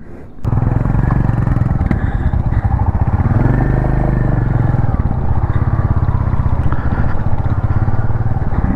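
A Royal Enfield Goan Classic 350 motorcycle pulls away and rides on in Goa with a loud, steady thumping single-cylinder drone close by, and no talk over it.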